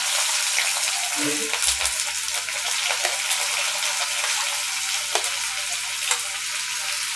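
Garlic, green chili and onion frying in hot oil in a pan, a continuous close crackling sizzle with occasional stirring scrapes and clinks.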